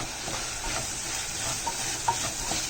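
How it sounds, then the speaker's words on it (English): Pongal sambar with ground sambar powder sizzles steadily in a pan over high gas while a spoon stirs it, giving a continuous close frying hiss with faint scraping and one small clink. "I'm going to mix this up"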